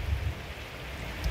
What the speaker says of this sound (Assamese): নেৰা নেপেৰা বৰষুণ।